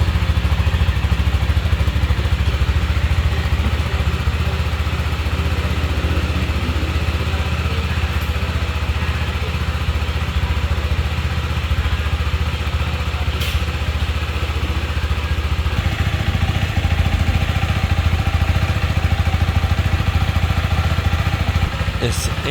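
A KTM 390 Adventure motorcycle engine with a 12.9 to 1 compression ratio runs steadily and loudly close by, a constant mechanical drone with light clatter and a change in tone partway through.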